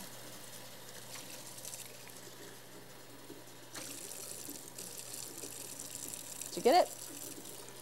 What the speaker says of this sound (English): You just want to rinse all the seeds out.